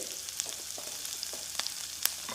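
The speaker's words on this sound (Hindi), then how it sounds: "बस हमें प्याज को हल्का सा ट्रांसपेरेंट होने तक पका लेना है।" Onions frying in a pan, cooked until just translucent, give a steady soft sizzle with scattered tiny crackles and pops throughout.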